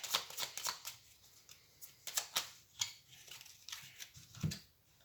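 Tarot cards shuffled by hand for a card reading, with soft crisp riffles and flicks in quick bursts, close and quiet, ending in a duller tap, with no talk over them.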